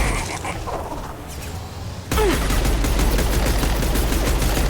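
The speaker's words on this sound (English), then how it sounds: "Firing now!" Dense, sustained weapon fire in Mass Effect 2 erupts about halfway through, turning a quieter rumbling backdrop into a loud, continuous barrage of rapid shots.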